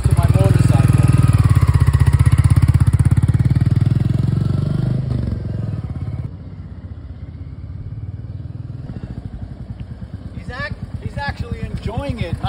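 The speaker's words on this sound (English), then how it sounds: "Trying to get him used to my motorcycle." Motorcycle engine running close by, loud and steady at first, then easing to a lower idle-like rumble with chatter or squeaks near the end; a person talks over it.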